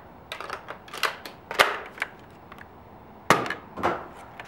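A Nerf N-Strike Elite blaster shoots suction-tip darts, giving a run of sharp plastic snaps and thumps at irregular intervals. A few are louder and cleaner than the rest, and no one talks.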